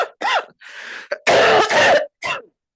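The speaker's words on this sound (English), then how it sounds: "I was about to cough and still did." Several harsh coughs and throat-clearing bursts in an irregular cluster, loud and close to the microphone during a community board meeting, with short gaps between them and no talk.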